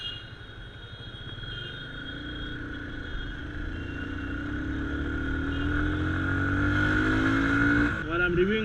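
A Yamaha FZ25 motorcycle rides through traffic while making a U-turn, its engine droning steadily and rising in pitch as it accelerates, with other traffic rumbling around it and a rider talking over the engine.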